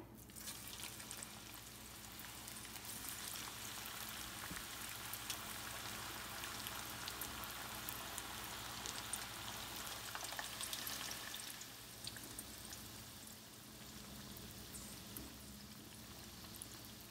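Chicken keema pakoras sizzle steadily in hot oil over medium heat, a dense, continuous crackling fry that holds even throughout with no talking.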